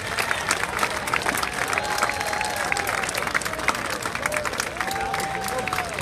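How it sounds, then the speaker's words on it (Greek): A street crowd at a Greek Independence Day parade in Boston claps and cheers for marching college students, continuous dense applause with shouts and whistles rising over it and voices mixed in throughout. "How about a round of applause for our students over at Hellenic College,"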